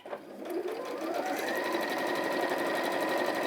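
A sewing machine topstitches fabric, starting up and settling into a fast, even, rapid needle chatter that holds steady and fairly close, with no talking.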